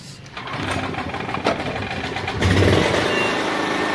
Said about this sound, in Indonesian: kita tes yang dengan kapasitas genset yang 4000